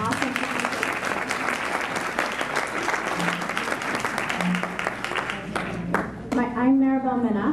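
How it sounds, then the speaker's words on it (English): A conference audience claps for a speaker in a business presentation hall, steady applause from many hands that fades near the end as a voice takes over. "So we give her another round of applause."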